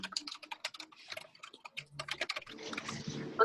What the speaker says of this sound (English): Looks like she's typing here.